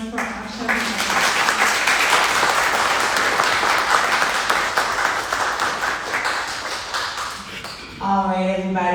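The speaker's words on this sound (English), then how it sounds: "Everybody, hand of applause for Asha." Loud, dense applause from a panel-discussion audience fills most of the stretch, tapering slightly before a voice begins speaking near the end.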